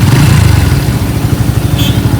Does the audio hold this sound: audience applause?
no